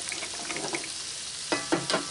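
Eggs cracked into a hot cast iron skillet, a soft continuous sizzle and frying crackle, with a few sharper close hisses near the end as they hit the pan.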